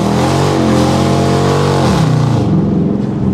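A 2019 Dodge Challenger V8 revs and accelerates on a street in Warsaw, heard loud and close from inside the car, its engine note climbing steadily, dipping briefly as it shifts, then pulling hard again.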